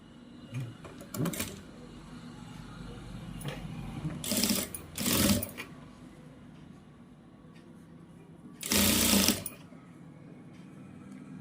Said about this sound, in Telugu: ఇలా చిన్నగా కుట్టు వేసేసుకోవాలి